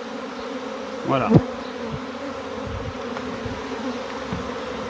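A swarm of honeybees being smoked into a hive hums steadily and fairly close throughout, with someone speaking briefly over the buzz.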